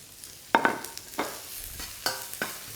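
Garlic and Thai shallots fry in a hot wok, with a soft continuous sizzle broken by several sharp scrapes and clacks of a utensil against the metal.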